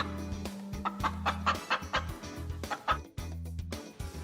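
A chicken clucks repeatedly in short, close, rhythmic bursts, with a steady low mechanical tick running underneath.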